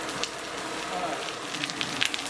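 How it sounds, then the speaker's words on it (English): Pecan-crusted fish frying in hot oil: a steady, loud, dense crackling sizzle with scattered sharper pops, continuous throughout with no voices. "The fish is cooking."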